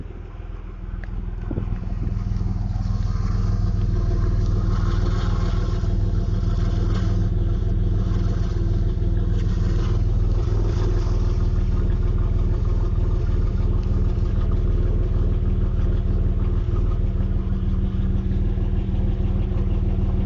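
A 1992 Camaro RS engine idles steadily with a slight exhaust leak, a continuous low rumble with loose clattering texture, recorded close and heard alone without talk.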